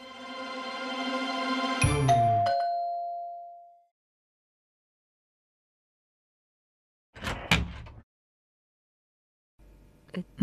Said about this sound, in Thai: ทำไมต้องให้ฉันกดกริ่งในสถานการณ์แบบนี้ด้วย